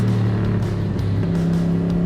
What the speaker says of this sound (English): this engine is not really designed for road course use, but it is eating it up